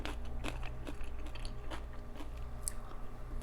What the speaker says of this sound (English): I don't know if you can hear it, but how crunchy it is in my mouth.